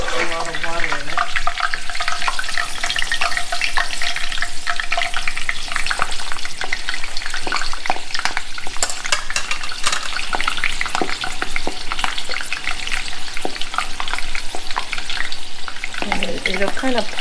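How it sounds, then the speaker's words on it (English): Thai fish cake paste with basil and long beans frying in hot oil, a steady loud crackling sizzle with bright spattering pops throughout, alone without voices. "I'm going to drop it in the oil."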